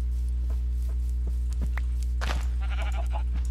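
In the video game Minecraft, sheep give a brief bleat over a constant low hum, along with a few light taps and steps.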